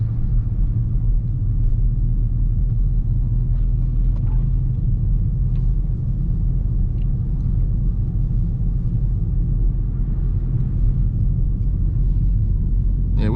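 Steady low rumble of a Dodge Scat Pack car driving through a snowstorm, a continuous engine and road drone heard from inside the cabin, with no speech.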